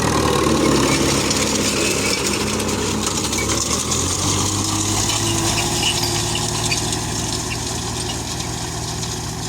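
A steady, loud tractor engine with a failing exhaust runs continuously at a constant rumbling idle close by, with no voices.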